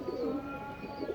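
Black pigeons of a dumbaju breed cooing at close range, a low soft warbling coo repeating under steady faint background hum, with no talking.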